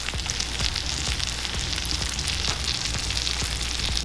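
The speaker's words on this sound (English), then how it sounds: "Listen to that sizzle, baby." Chicken fajitas sizzle in a hot pan with a steady, dense hiss and crackle of spattering fat, loud and close throughout, with no voices.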